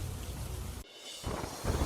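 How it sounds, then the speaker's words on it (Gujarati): Heavy monsoon rain falls in Bet Dwarka, a dense steady wash of noise with a brief dip partway through before the downpour returns at full strength. "બેટ દ્વારકામાં ભારે વરસાદ"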